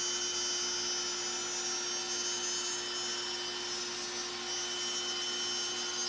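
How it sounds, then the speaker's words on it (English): A CNC router with a 1/8 inch bit cuts a black walnut fretboard held down with double-sided tape, giving a steady, fairly quiet high-pitched spindle whine with a continuous hiss of cutting throughout, no talking. "1/8 inch bit and I'll cut the nut slot as well as the fretboard markers"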